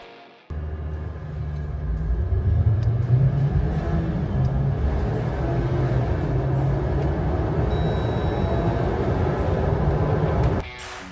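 A Jeep Wrangler Rubicon engine roars steadily for about ten seconds with heavy low rumble, building as it accelerates from 0 to 100, then cuts off abruptly.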